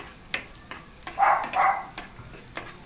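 Garlic and onion sautéing in a pan for a Filipino sardine dish, a soft, steady sizzle broken by sharp, regularly spaced taps of stirring and two brief louder bursts of frying, close up with no talking.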